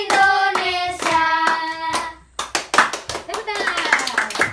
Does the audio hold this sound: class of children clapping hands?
yes